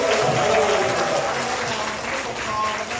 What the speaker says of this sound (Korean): 우리가 감사하며 박수합시다.